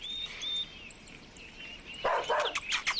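A dog barks in a short burst of several yaps near the end, after a high whistling tone and quiet background.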